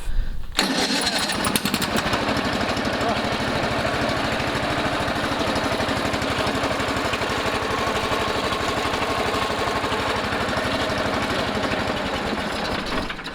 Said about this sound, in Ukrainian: Так, включаємо зажигання, включаємо друге зажигання.